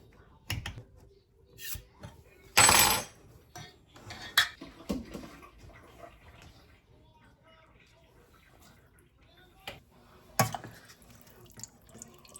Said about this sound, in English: And then these beans, I'm going to rinse them and throw them in.